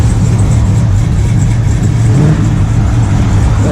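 Engine of a Monte Carlo at a cruise-in car show, a steady loud low rumble with a brief rise like a rev, heard close and alone.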